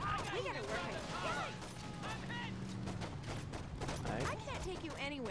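Pistol gunfire during a drive in the video game Saints Row, with repeated sharp shots and mechanical clatter over engine and game noise, dense and busy throughout.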